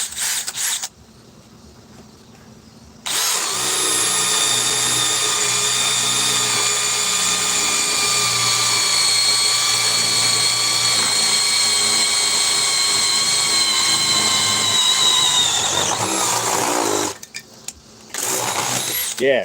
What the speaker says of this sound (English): Spade bit. This drill should be able to do it.